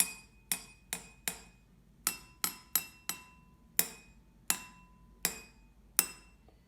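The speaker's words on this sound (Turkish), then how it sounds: "Evet bu biraz daha ince oldu. Çünkü içindeki su miktarı biraz daha az." Drinking glasses filled with different amounts of water are tapped one at a time, about fourteen clear ringing strikes at an uneven pace, each decaying quickly, close and fairly quiet.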